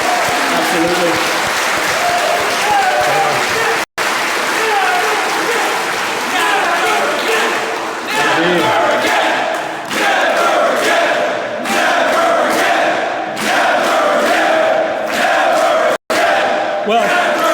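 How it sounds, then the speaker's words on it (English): An audience bursts into a long round of applause at a stand-up comedy show, loud, dense clapping with cheering and whoops, briefly cut twice, sustained throughout. "give a round of applause for all the Seville vets"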